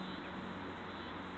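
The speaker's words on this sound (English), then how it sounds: "And if you can hear in the background, that's a cicada." A cicada's steady high buzz drones in the background outdoors while fishing, continuous and fairly loud through the whole moment.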